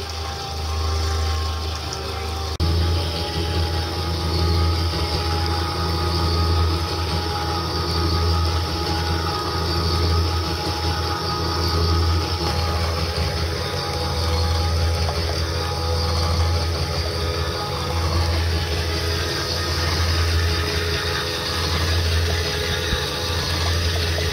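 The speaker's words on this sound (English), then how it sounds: "The cream being heavier, in the process of spinning it like this, it forces the cream up" Cream separator spinning milk on a homestead, a steady motorized hum with liquid running continuously, loud and close with no pauses.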